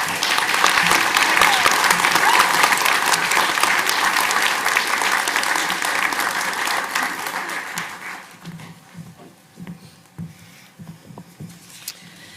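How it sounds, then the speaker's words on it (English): A community college audience applauds a woman coming back up to receive a bouquet, a loud dense roar of clapping for about eight seconds that then fades into scattered claps and quieter room noise. "can you please give her a round of applause?"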